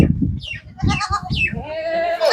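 Goats bleat repeatedly at close range on a goat farm in Gujarat, with several overlapping, wavering calls and someone talking underneath.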